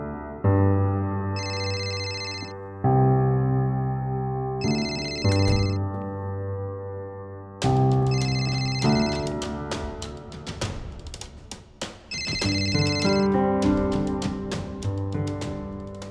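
A telephone rings over and over and no one answers, a loud electronic ringtone repeating in regular bursts with a short pause between each one.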